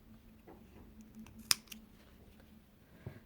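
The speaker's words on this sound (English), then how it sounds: "once you stitch the leaf, cut the extra thread" Scissors snipping extra crochet thread, a single sharp close click with a faint follow-up snip in an otherwise quiet room.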